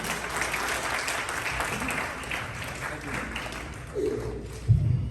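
Applause from an audience at a community event honoring physicians in New York, a steady clatter of many hands lasting throughout, with a voice talking over it near the end.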